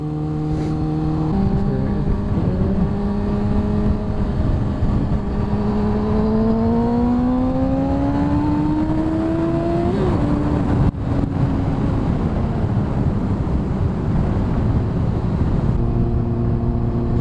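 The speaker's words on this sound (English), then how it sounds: "at lower speed you've got no wind noise at all. Just hear the exhaust popping away." Motorcycle engine running at low speed, its drone shifting pitch, with irregular faint exhaust pops crackling underneath; no wind noise, no voices.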